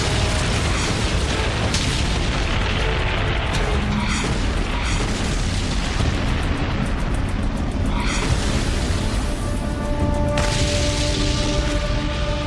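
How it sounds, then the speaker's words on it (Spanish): Tank guns firing in the Battle of Kursk: a dense, continuous barrage of booms and blasts with rumbling low end and scattered bursts, loud and chaotic throughout. "Los tanques avanzaban unos contra otros disparando."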